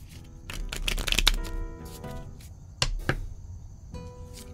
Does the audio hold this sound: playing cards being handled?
yes